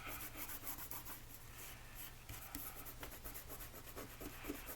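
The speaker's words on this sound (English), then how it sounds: "I'm spreading the ink around at the same time." A fingertip rubs and spreads ink across paper in a soft, steady, continuous scrubbing that stays faint and close for the whole stretch, with no voices.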